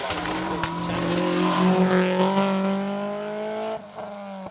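A rally car on an asphalt stage at Rally Ceredigion 2023, its engine note climbing steadily under hard acceleration, then cutting off abruptly before a brief lower burble.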